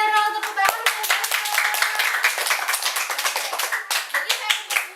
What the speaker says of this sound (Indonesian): Betul, Daryl, tepuk tangan